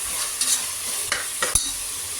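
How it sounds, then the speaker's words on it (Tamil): Onions sizzle and fry in a pan while a spatula stirs them in a few quick scraping strokes, close and fairly loud over the continuous crackle, with no speech. "வெங்காயம் நல்லா வதங்கிருச்சு"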